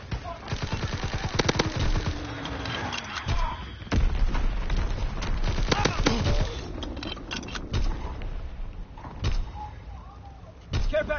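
A strafing run and falling bombs in a video game: rapid machine-gun bursts and sharp gunfire cracks mixed with heavy booms, loud and close over several seconds. A voice speaks in between.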